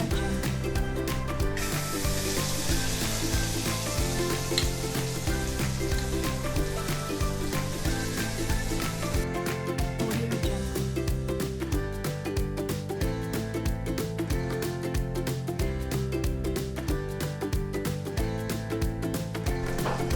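Butter melts and sizzles steadily in a hot pan, a continuous crackling hiss close by with no voices.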